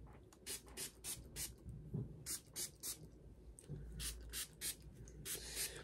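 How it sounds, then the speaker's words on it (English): Heat protectant is sprayed onto hair in a rapid run of short, soft hissing pumps, about a dozen bursts in quick rhythm, close and fairly quiet, with no talking. "Drench my hair in heat protectant."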